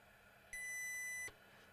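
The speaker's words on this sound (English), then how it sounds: "Meter in diode mode." A multimeter in diode mode gives a single steady beep of under a second while a dead NerdQaxe++ Bitcoin miner board is tested for a short. It sounds clear against quiet background with no talk.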